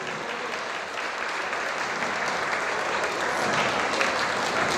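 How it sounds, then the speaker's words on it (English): Applause from a gala audience at a community center anniversary celebration, a dense continuous wash of clapping that grows slightly louder toward the end. "give these ladies all their applause"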